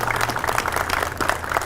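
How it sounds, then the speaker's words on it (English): A room at a police chief's press conference breaks into a short burst of steady applause, dense clapping from a crowd throughout. "So let's give her a round of applause"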